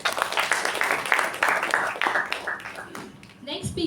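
An audience at a Toastmasters meeting claps in brief bursts that soften and fade, mixed with voices talking over the clapping.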